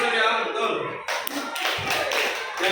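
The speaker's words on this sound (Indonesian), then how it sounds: "Tepuk tangan dulu dong untuk Surya" A class of students claps for a classmate, first a teacher's voice and then a burst of close, loud hand claps that continues to the end.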